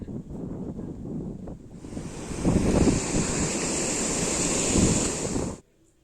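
Ocean surf and strong wind at Marina Beach in Chennai, a steady rushing roar of waves with blustery wind noise swelling midway and cutting off abruptly near the end.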